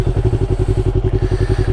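A Yamaha R3 motorcycle engine running just after start-up, a loud, close, evenly pulsing low idle that throbs steadily with no talking.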